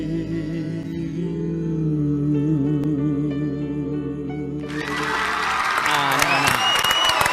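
A television studio audience breaks into applause, the clapping and cheers rising loudly after a sung, musical passage, with a voice talking over the crowd.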